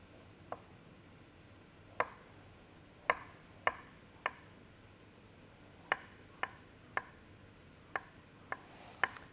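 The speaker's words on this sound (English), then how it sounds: "with my knife do some very nice small cuts, and I'm just moving my fingers up as I go" A knife makes small, even slicing cuts through an avocado on a board, each one a crisp, close tap, about a dozen spaced irregularly, with no talking.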